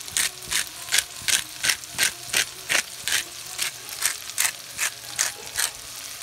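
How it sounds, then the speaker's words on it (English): A pepper mill grinding black pepper in a kitchen while cooking beef short ribs on the stove: about fifteen quick, evenly spaced ratcheting crunches, close and fairly crisp. "Grind some black pepper."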